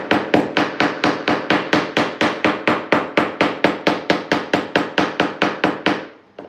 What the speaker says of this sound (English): then I'm going to use this hammer to flatten the ring out the best I can